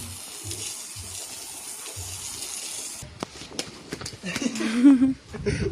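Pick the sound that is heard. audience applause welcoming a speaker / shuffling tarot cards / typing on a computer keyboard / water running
water running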